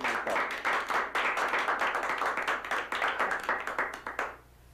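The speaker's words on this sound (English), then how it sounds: "I don't know if you guys should applaud at that part" An audience breaks into steady, dense applause during a stage magic show's card-in-wallet routine. The clapping stays loud for about four seconds, then fades out quickly.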